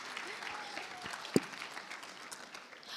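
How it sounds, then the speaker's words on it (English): Steady, fairly faint applause from an audience at a national ICT summit hackathon session runs through the whole stretch, with one brief sharper clap standing out. "Can we give Press Track another round of applause, please?"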